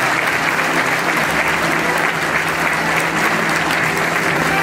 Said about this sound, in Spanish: Brindémonos un fuerte aplauso.